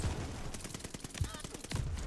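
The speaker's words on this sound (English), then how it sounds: "I'm shooting at you, mate." Rapid gunfire from Call of Duty: Vanguard crackles in quick successive bursts, close and sharp, with a player talking over the shots.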